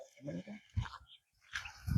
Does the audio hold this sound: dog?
yes